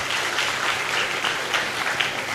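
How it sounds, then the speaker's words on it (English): Audience applause fills the room at a live event, a dense steady wash of many hands clapping throughout, fairly loud and with no voices over it. "Clap for yourselves."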